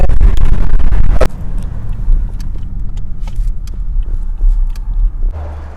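Car pulling up and stopping by a roadside beneath big rocky cliffs near Madinah at evening, a loud close engine rumble with a sharp thud, then a lower idling hum.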